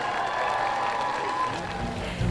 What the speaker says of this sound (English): Let's give them all a big round of applause too.